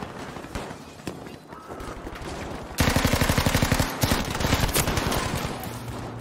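Rapid automatic fire from a Type 100 submachine gun in the video game Battlefield V, a dense, steady stream of close, loud shots lasting several seconds after scattered earlier gunfire and battlefield clatter.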